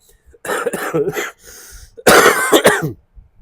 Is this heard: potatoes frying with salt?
no